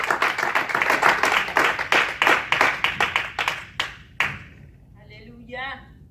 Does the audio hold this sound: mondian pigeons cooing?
no